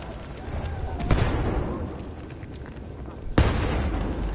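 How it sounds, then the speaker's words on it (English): Explosions and rocket blasts in a 5v5 team deathmatch video game, with two sharp loud booms about two seconds apart over a steady rumble of gunfire and game noise. "A lot of explosions going off in Wiggy Turbo's face."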